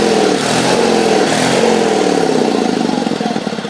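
A 1974 Sears Suburban SS16 garden tractor engine runs loud and close, its pitch rising and sagging as the governor kicks in, with a pulsing, uneven mechanical throb throughout.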